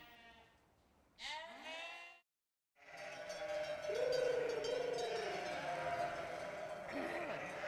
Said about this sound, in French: Tu vois, les brebis, elles courent.